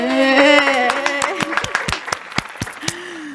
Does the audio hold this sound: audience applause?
yes